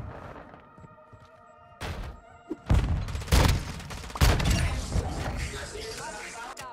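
Lockwood 300 shotgun fired in Call of Duty: Modern Warfare II, a few loud, booming close blasts with mechanical handling clicks between, following quieter game ambience.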